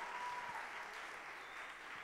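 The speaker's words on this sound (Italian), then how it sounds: "fate un applauso a questi ragazzi che sono venuti a trovarci" Congregation in a church clapping to welcome visiting young people, a brief, faint and fairly distant spatter of applause that fades slightly.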